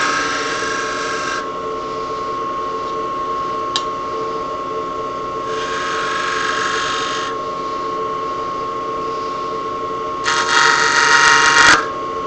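A wood lathe spins steadily while a finial base is being textured, giving a continuous mechanical drone with bursts of brighter cutting noise that come and go, the loudest near the end.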